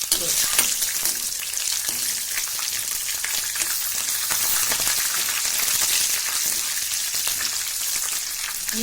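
Peanuts and green chillies fry in hot oil for a spinach bhaji, making a loud, dense, continuous sizzle up close with faint stirring underneath.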